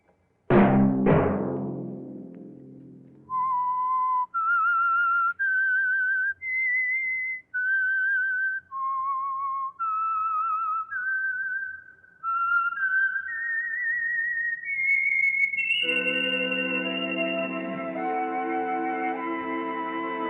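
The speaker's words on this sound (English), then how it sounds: "Let that whistle be your signal for the Signal Oil program" A short orchestral chord, then the lone whistled theme melody of a radio mystery program, distinct sustained notes rising and falling, ending on a long held note over swelling music.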